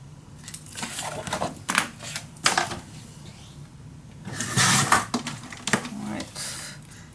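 Scissors cutting through paper for a scrapbook mini album, a series of short crisp snips and rustles in irregular bursts, with a louder crinkling stretch midway, close up and fairly quiet.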